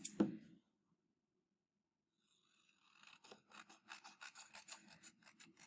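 A foam piece being cut, heard after a short knock and a pause as a quiet, steady series of rhythmic rasping strokes.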